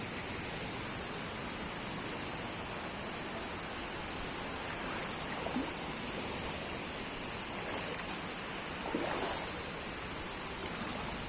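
Floodwater from heavy rain flows through a school in Raigad district, a steady broad rushing wash heard at moderate distance, faint and continuous with a few brief louder splashes.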